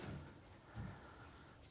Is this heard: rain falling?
no